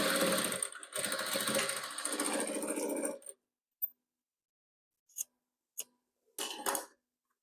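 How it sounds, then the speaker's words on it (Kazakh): A sewing machine stitches white fabric for patchwork, running steadily for about three seconds, then stops, leaving silence broken by a few short mechanical clicks and a brief final burst. "Және былай ақ тігеміз."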